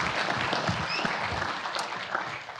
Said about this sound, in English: Let's have a round of applause for Tony.